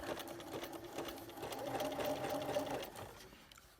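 A sewing machine runs a zigzag stitch around coiled rope to start a rope bowl, a steady mechanical whir that fades out near the end, heard close and alone.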